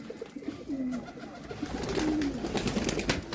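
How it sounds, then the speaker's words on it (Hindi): Pigeons cooing close by at a rooftop loft, a couple of soft low coos over background outdoor noise, no talk. "अच्छा ये कबूतर भी अच्छा है"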